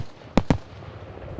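Fireworks at a Shelby Township fireworks celebration at night, two sharp, loud booms in quick succession, each ringing out briefly before fading into a quiet background.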